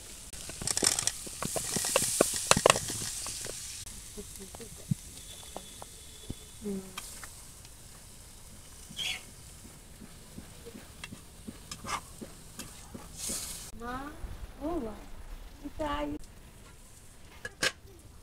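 Shrimp frying in a village kitchen as pumpkin is added and stirred in, with soft sizzling and scraping stir strokes under a speaking voice, close and moderately quiet.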